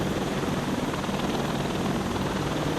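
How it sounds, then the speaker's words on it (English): Helicopter in the VR game Defender Patrol, flown on auto hover: a steady, loud, dense rotor-and-engine roar with even texture throughout, no pauses or talk. "It does take a while to get used to piloting the helicopters."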